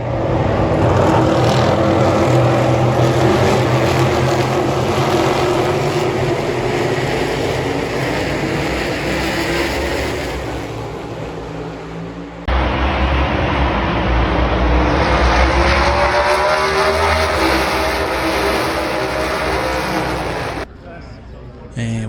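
NASCAR stock cars roar off the start at the Watkins Glen road course, a loud sustained wash of engine noise heard from trackside, swelling again mid-way with passing cars, with crowd-like talk faintly beneath.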